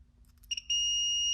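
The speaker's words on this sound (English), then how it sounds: "I get a beep, so I know that that way is on, it's connected." A continuity tester on a C6 Corvette two-step switch gives a sustained electronic beep, preceded by a couple of short clicks and chirps, loud and close in an otherwise quiet space.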